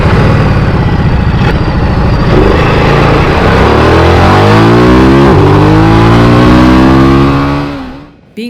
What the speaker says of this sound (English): Hearing nothing but that Desert X's roar gave me a thrilling feeling